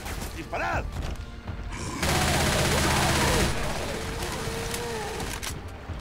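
Burst of rapid gunfire in the zombie shooter Left 4 Dead 2, a dense loud volley of shots lasting about a second and a half amid game noise, with people talking over it.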